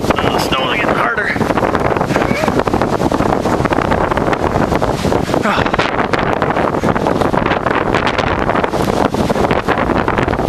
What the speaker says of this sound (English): Wind's died down considerably. It's only blowing at about 40 miles an hour today.